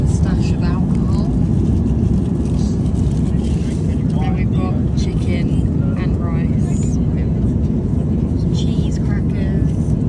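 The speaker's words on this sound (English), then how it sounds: "We're finally on the plane." A steady low roar of jet engines fills the airliner cabin, loud and unbroken throughout, while someone talks softly over it.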